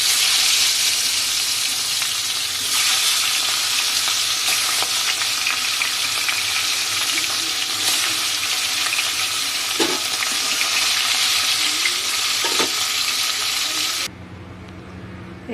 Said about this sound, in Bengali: এখানে তেল গরম হয়ে গেছে, মাছগুলো এক এক করে দিয়ে দিলাম